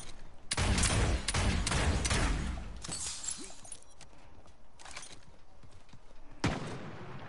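Sniper shots ring out in the battle royale game Realm Royale, a burst of several sharp cracks in quick succession, then quieter scattered shots and one more crisp report near the end, with no voices.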